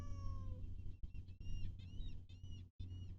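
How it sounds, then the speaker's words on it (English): Red tabby cat in the Star Stable Online video game meowing, a sequence of several high, plaintive meows close up and fairly clear, one drawn-out call followed by shorter repeated mews over a low background hum. "A red tabby cat approaches you. She meows heartbreakingly and looks lost and a little scared."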